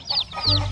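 Colourfully dyed rainbow chickens cluck close by in a brief burst of several sharp, rising calls, with a low background hum underneath.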